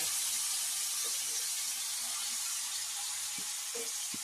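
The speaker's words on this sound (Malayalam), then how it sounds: "കടുക് പൊട്ടിച്ച ചട്ടിയിലേക്ക് നമുക്ക് കോരി വെച്ചെടുക്കാം അപ്പൊ ആ ഒരു ചീനുള്ള ഒരു സൗണ്ടുണ്ടല്ലോ അതാണ് എനിക്ക് ഇഷ്ടം" Pumpkin curry sizzles in a pan of spluttered mustard seeds, a steady close hiss of frying with a few faint knocks near the end.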